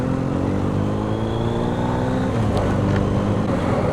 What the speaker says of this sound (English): That bike of Steve's does sound nice with that Black Widow exhaust on it